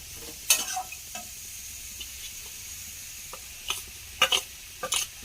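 Banana stem with small shrimp is stirred in a pan on the gas stove, giving scattered scraping knocks over a soft, continuous sizzle, with a cluster of louder strokes toward the end.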